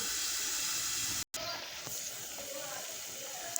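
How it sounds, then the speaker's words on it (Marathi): Steady broadband hiss and gentle bubbling of water boiling in a pot for rice flour papad dough, close by, with a brief dropout and faint voice-like tones in the background. "हे पहा किती मस्तपैकी उकळी फुटलेली आहे"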